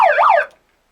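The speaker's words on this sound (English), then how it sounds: "I don't have the bell with me, but it's got a siren, doesn't it?" A siren sound effect stands in for a wrestling bell: one close, loud rising-and-falling wail lasting about half a second, then silence.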